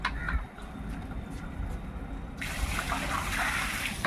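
Water gushes from an opened tank valve into buckets, a low running wash that jumps to a louder, brighter rush partway through and keeps pouring steadily.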